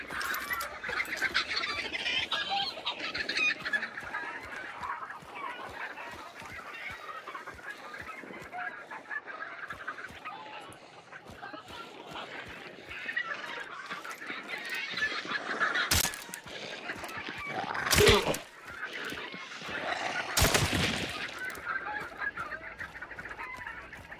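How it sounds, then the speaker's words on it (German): Startled chickens cluck and squawk in the video game Hunt: Showdown, a continuous agitated flock close by with flurries of wing noise and a few louder bursts, no talking over them. "Oh, da werden die Hühner aufgeschreckt."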